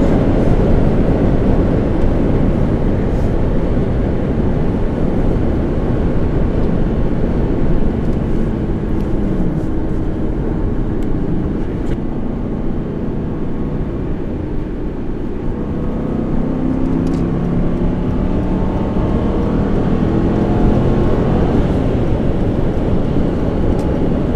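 An Aston Martin V8 Vantage Roadster 4.7 with a manual gearbox drives at speed, a loud, continuous engine drone mixed with heavy road and wind rush that rises and falls slightly as the revs shift.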